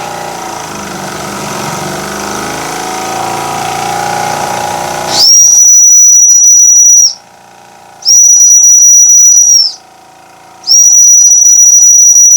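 A Jensen Model 35 toy steam engine's whistle wails loud and close in three long, steady high blasts, with hissing steam and machinery rumble beneath and in the gaps.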